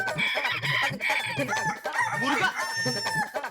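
A person imitates a rooster, crowing several times in quick succession with loud, close, strained cock-a-doodle-doo calls in a comedy television scene.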